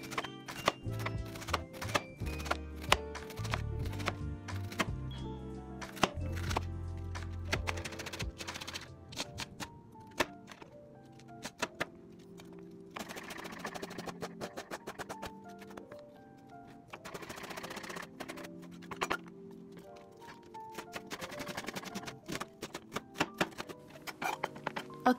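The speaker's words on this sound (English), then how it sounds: "First, I cut the cabbage into small pieces and I throw away the core." A knife chops cabbage into small pieces on a board while making sauerkraut, giving a run of sharp, rapid, close knocks in irregular bursts with short pauses between them.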